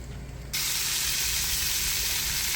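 Food dropped into hot bacon grease at a campsite in Texas Hill Country starts sizzling abruptly, a loud, steady, close frying hiss that holds without pause after a quiet moment.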